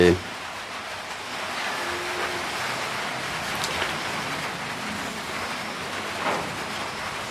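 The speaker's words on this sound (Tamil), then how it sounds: "வருவதும் போவதுமாய் மழை இருக்கிறது." Rain falls steadily in Jaffna on a Pongal festival day, a continuous even hiss of drops with no break, fairly close and filling the whole stretch.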